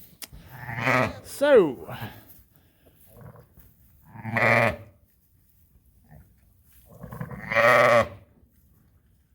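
A pregnant ewe close to lambing bleats on a farm during night checks, three or four loud wavering bleats spaced a few seconds apart, nearby, with a brief spoken word between them.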